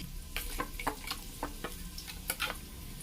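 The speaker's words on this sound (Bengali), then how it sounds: "পেঁয়াজ কুচি ও আদা কুচি তেলে ছেড়ে ভালো করে ভাজলাম।" Chopped onion and ginger frying in oil for a vegetable khichuri, with a quiet background sizzle broken by a series of sharp scraping and stirring clicks against the pan.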